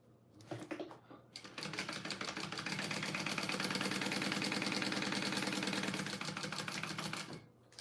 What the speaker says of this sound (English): we're just sewing down the two sides